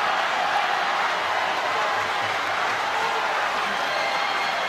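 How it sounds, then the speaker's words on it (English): Badminton arena crowd at the All England Open finals letting out a steady, dense murmur of disappointment, a broad wash of many voices sustained throughout without distinct claps or cheers. "Disappointment from the crowd."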